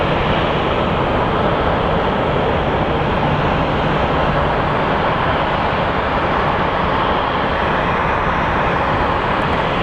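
A United Embraer 175 regional jet at Phoenix Sky Harbor International Airport gives off a steady, loud broadband engine roar that holds level for the whole stretch, with no voices over it.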